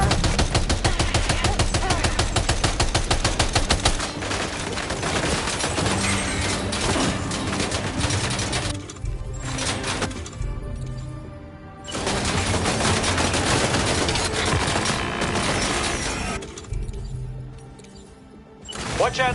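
Rapid automatic gunfire in the video game Death Stranding 2, sustained machine-gun bursts firing loud and close in long runs, with short pauses between volleys and occasional talk.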